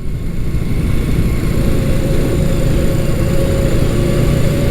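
A classic Honda motorcycle engine runs at a moderate, unstrained pace while being ridden, a steady smooth drone with a constant low rumble and faint wind noise, loud and close with no talking.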